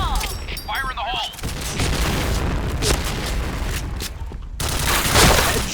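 Gunfire and grenade blasts in the Counter-Strike map Sandstorm, with rapid bursts of shots and booms packed densely throughout, the crackle sharpening near the end, while voices call out over the action.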